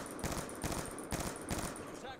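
Rapid bursts of automatic gunfire in the video game Black Ops 2, several close, loud rattling volleys in quick succession, with a voice talking over them.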